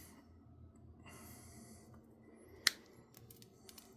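A single sharp cut as a Cat 6 network cable is snipped square with cutters, one brief crisp snap standing out against a faint, quiet room background.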